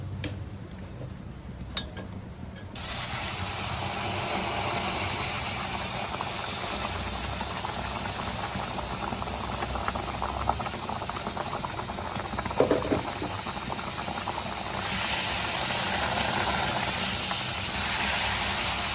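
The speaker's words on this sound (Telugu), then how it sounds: "ఇప్పుడు దీంట్లోనే మనం వేడి నీళ్ళు వేసుకోవాలి" Hot water poured into a pan of roasted ragi flour and semolina for upma, producing a steady bubbling hiss and sizzle that continues throughout, with a faint clink of a utensil partway through.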